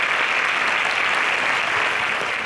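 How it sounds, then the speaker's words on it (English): An audience applauding at a televised school quiz competition in Kenya, a dense steady burst of clapping from many hands, loud and continuous throughout. "Kindly clap for her."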